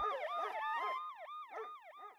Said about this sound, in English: or a siren.